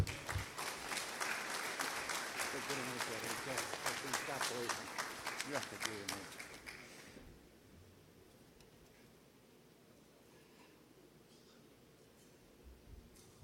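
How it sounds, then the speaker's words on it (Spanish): Audience applause welcoming a speaker named Tomás at a church-hosted talk, a loud, dense burst of clapping for about six seconds that cuts off into quiet room noise with faint rustling. "Recibamos con un fuerte aplauso a Tomás, por favor"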